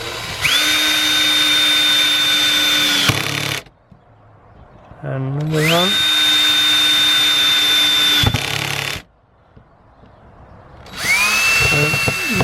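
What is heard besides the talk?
power drill driving screws into wood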